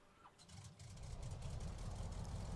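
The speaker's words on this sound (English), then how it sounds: "let's go ahead and give it a start. See if it will start." A Waco YMF5 biplane's engine starts in Microsoft Flight Simulator 2020, cranking and catching into a steady, rising low rumble that grows louder and settles into a continuous drone, with no talking.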